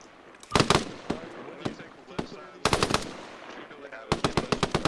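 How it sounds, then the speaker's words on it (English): Enemy gunfire in the military shooter game ArmA crackles in rapid bursts of sharp shots, loud and close, separated by short pauses, with radio-style voices talking between volleys. "He's like taking shots at us."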